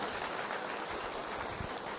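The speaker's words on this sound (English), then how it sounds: "So I want you to give a big round of applause to the Brahma Kumaris." Audience applause at a Brahma Kumaris talk on harmony in relationships in a hotel hall, a steady dense patter of many hands clapping throughout, fairly loud and even with no one speaking.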